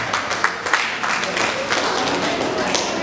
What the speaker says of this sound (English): Can we please clap for the management of the bank?